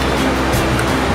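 Water splashing steadily from an outdoor fountain, a loud continuous broadband rush with no breaks, heard up close on its own.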